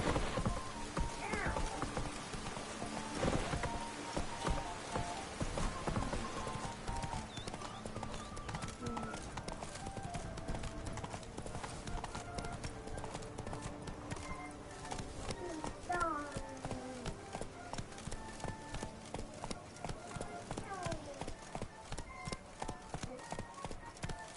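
Roach the horse gallops in The Witcher 3: Blood and Wine, a steady rhythmic clatter of hooves running on, close and continuous over ambient noise.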